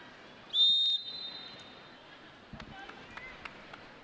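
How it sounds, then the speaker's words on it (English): A single shrill referee whistle blast of about half a second cuts through the background hum of a professional indoor volleyball match, followed by scattered faint court thumps. "I think we have a whistle."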